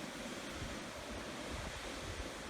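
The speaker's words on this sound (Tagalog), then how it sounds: "That's the waterfalls of Baguio City." Waterfall in Baguio City, a steady broadband roar of falling water that fills the whole clip at a low, even level with no voices.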